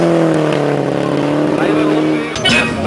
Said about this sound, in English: ovo je Malagić vs. BMW M3